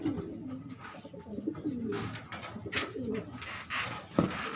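Pigeons in a racing pigeon loft coo repeatedly, several soft overlapping rolling calls close by, with faint rustling and a brief tap near the end.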